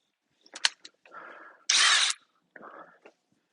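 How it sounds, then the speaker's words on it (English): Short bursts of a power drill whirring at close range, pre-drilling screw holes while fitting an exterior garage door, with brief pauses between runs and one longer, louder spin in the middle. "pre-drilling is just allowing for the screw to have a path to follow"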